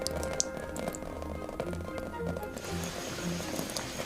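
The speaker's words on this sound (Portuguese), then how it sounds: "É gravado assim, uma bota e um regador" Foley rain made with a boot and a watering can: a soft, continuous patter of small drips and taps, fairly faint and close, with no talking.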